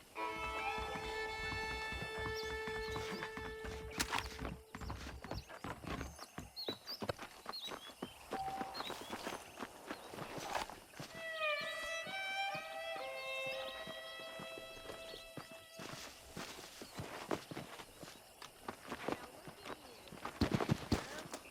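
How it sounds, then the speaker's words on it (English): Saddled horses in the video game Red Dead Redemption clop along with steady hoofbeats across the ground, mixed with in-game music and ambient effects throughout. "The horses are saddled up over here."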